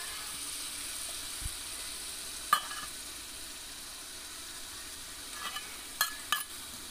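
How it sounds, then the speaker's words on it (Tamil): Tomatoes sauté in hot oil in a pan for Madurai-style mutton biryani, giving a steady soft sizzle with a few brief stirring scrapes and clinks near the end, no voices. "இப்போ நல்லா தக்காளி நல்லா வதங்கிடுச்சு பாருங்கள். எண்ணெய் திரிஞ்சு வந்துடுச்சு பாருங்கள்."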